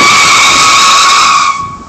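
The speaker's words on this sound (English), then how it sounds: "And then I now have tire screeching." A loud tire screech sound effect plays from a soundboard, one sustained squeal with steady high tones that holds for nearly two seconds before tapering slightly at the end, with no voices over it.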